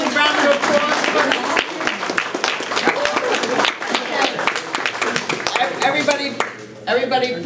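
Round of applause from attendees at a community meeting, dense clapping filling the room for several seconds with a brief dip near the end, voices mixed in.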